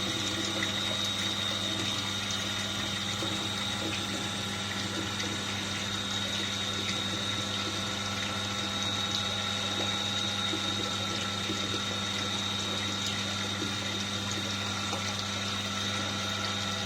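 Water pours steadily into the collecting tank of a flow measurement rig, a continuous dense rushing flow with a pump-like hum beneath, constant and close, no break throughout.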